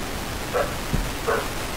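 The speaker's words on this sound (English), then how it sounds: "I hear a dog barking some weird ass TV." A dog barks in a VHS-style horror video game: two muffled, spaced barks come through a constant hissy background noise.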